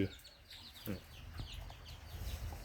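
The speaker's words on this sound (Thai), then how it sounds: "แต่ตัวนี้ก็ไก่ฟ้าเลดี้ ชุดพ่อพันธุ์" Faint calls and soft clucking from Lady Amherst's pheasants sound at a distance, over a low rustling background.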